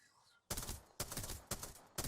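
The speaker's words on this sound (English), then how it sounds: "Look at the steadiness of that shot with the Spitfire" Spitfire light machine gun firing in Apex Legends, four loud evenly spaced bursts about half a second apart after a brief quiet lead-in.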